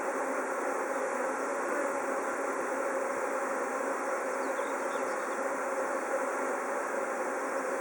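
A swarm of honeybees being settled into a hive gives off a dense, continuous buzzing hum, steady and moderately close, with no voices.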